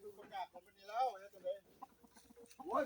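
Chickens cluck nearby in short, uneven bursts, one call rising louder at the end against a quiet background.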